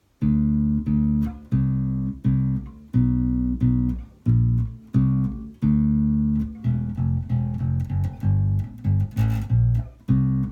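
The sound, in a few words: electric bass guitar playing verse riff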